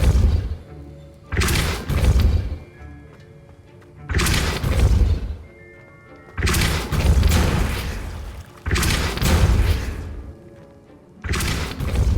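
Depulso force spell cast again and again in Hogwarts Legacy on Xbox Series X, giving five loud, booming whooshes with crashing impacts at a steady spacing of a few seconds, close and forceful.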